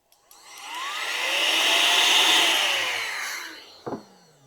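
An electric duster blasting air, spinning up into a loud whine and hiss with a rising then falling pitch, holding steady before winding down and ending with a short clunk.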